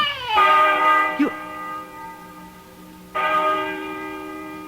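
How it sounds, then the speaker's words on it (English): A bell rings near an old barn in an old-time mystery radio drama, with resonant strikes that hang and fade slowly. A short cry-like sound cuts in between, then another strike rings out loud and sustained. "Listen to that bell."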